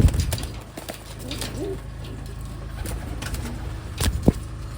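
A blue bar pigeon is handled up close, with soft coos, rustling and light bumps and knocks from the handling, ending in a couple of sharper taps.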